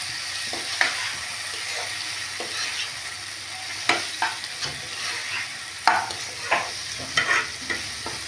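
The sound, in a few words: chopped tomato frying and being stirred with onions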